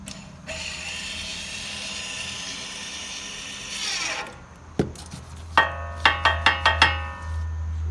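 An electronic parking brake motor on a Mazda 3, powered directly from 12 volts, whirs briefly and then gives a series of sharp mechanical clicks and clunks as it drives and engages, close and alone.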